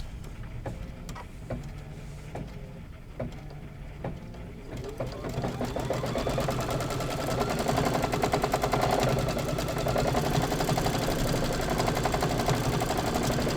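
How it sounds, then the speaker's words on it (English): A sewing machine quilts a Kimberbell fabric border with a fast, continuous mechanical chatter that steps up in speed partway through and holds steady and close until the end. "So now I'm going to go ahead and stitch this quilting out."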